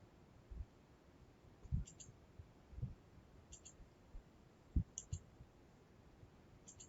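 A computer mouse clicks during a software tutorial on building a login form connected to a database: a handful of sharp, faint clicks spaced irregularly over a quiet background, with no talking.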